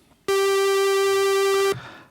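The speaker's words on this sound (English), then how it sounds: "So already we should be able to hear a tiny bit of a wobble on that pulse waveform there." A Studio Logic Sledge synthesizer plays a single sustained pulse-wave note with slight LFO wobble, bright and buzzy, holding steadily for about a second and a half before cutting off.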